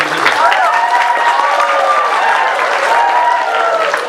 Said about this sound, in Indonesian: Ya, tepuk tangan untuk dosen-dosen kita.